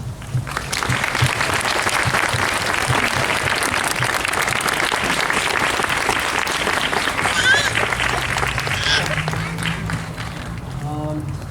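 Sustained loud applause from a large crowd fills the whole stretch, steady and enthusiastic, with a voice briefly audible near the end.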